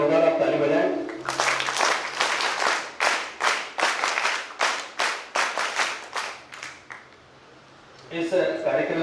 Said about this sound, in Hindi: सभी के लिए एक बार जोरदार आप ताली बजाएं।